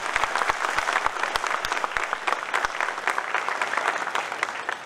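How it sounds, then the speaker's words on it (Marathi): Students in an outdoor crowd burst into vigorous applause for Pawar at a public gathering, dense rapid clapping with a few sharp individual claps standing out, sustained and fairly loud throughout. "एकदा पवार साहेबांसाठी जोरदार सगळ्यांनी टाळ्या वाजवतात"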